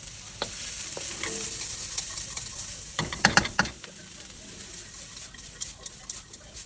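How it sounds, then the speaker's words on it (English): Onions frying in hot oil in a pan, a steady sizzle with scraping, clattering stirring strokes that bunch into a louder flurry midway, close and alone without voices. "Now I'm gonna get the onions and put them in the hot oil."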